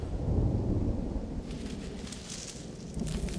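Thunderstorm in the video game Firewatch, a loud rolling thunder rumble that fades into steady rain and wind hiss.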